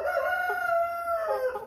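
An American Bresse chicken on a farm gives a clear, close call with a sustained tonal crow-like cluck across the whole moment, loud and alone without talk.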